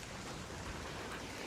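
Rain pouring in the video game ARC Raiders, a dense, even hiss of falling water filling the moment with no voices over it.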